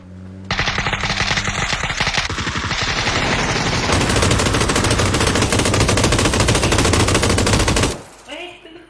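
Loud, sustained automatic gunfire rattles in a rapid, unbroken stream for about seven seconds in a shooting video game, then cuts off abruptly.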